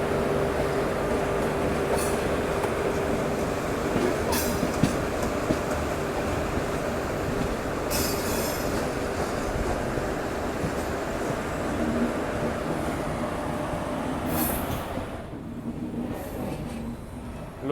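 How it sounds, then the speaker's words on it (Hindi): The Rewanchal Express rolls into Katni Murwara railway station alongside a goods train, with a steady rumble of wheels on track, occasional sharp clanks and squeals, heard at moderate level from on board. "हमारी एंट्री हो रही है कटनी मुरवारा रेलवे स्टेशन में, लेकिन उससे पहले वो ट्रेन भी हमारे साथ साथ एंटर कर रही है भाई।"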